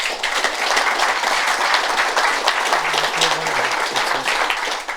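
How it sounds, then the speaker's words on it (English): Loud, sustained audience applause at a pro-am golf prize giving, dense clapping from a full room carrying on steadily, with faint voices murmuring underneath. "will you give him a round of applause?"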